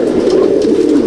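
Pigeons in a loft give a loud, close, continuous cooing burble, several birds overlapping in a low throaty coo.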